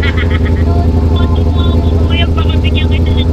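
Ducati V4S superbike engine rumbling steadily while riding, a loud, continuous low drone with wind noise, heard close up under chatter from the rider and passenger.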